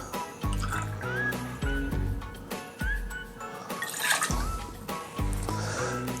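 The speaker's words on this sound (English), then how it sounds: "We're gonna go with 2 ounces of our Mai Tai mix." Keto Mai Tai mix poured into a glass for a cocktail, heard as a few short bursts of liquid splashing and trickling interspersed with light clinks, close and fairly quiet.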